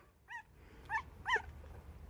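A puppy gives three short, high, faint whimpering yelps spaced out over a couple of seconds, against quiet household background noise.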